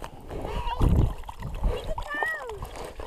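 A northern pike released on an ice fishing trip drops back into the water with a short, close splash, while people talk in the background.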